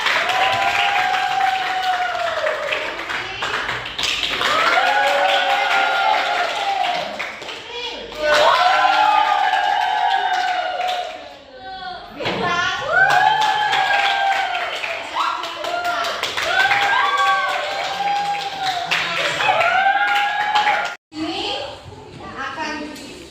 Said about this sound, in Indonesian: beri aplaus kepada Stefan